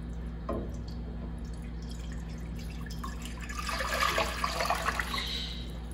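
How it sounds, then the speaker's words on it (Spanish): Water is poured into a saucepan in a kitchen, a soft steady splashing stream that swells toward the end over a faint background hum. "En una cacerola vamos a agregar 1 litro de agua."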